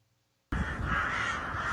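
Crows caw in Kyiv on a wartime morning, a sudden loud burst of harsh calls after a brief silence, continuing steadily close by.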